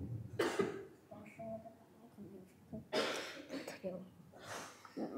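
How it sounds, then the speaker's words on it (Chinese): Children coughing during a dance class indoors, with several short bursts of coughs and throat-clearing spread across the moment amid background voices and movement. "刚刚谁在咳嗽来着？"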